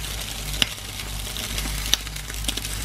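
An omelette folded in half sizzles quietly in a frying pan at breakfast, a soft continuous hiss with a few faint metallic ticks, while a dishwasher hums in the background.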